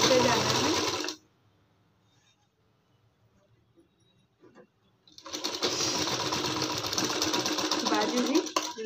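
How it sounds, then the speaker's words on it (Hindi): A sewing machine stitches a sleeve onto a lined net fabric kurti, running loudly for about a second, falling silent for several seconds, then whirring steadily again up close. "हाफ हाफ इंच दबाते हुए सिलाई लगा देना है"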